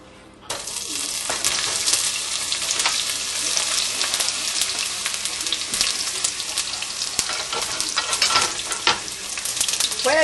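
Onions hit a hot pan and break into a loud, continuous sizzle, close and steady with occasional stirring clatter, no talking.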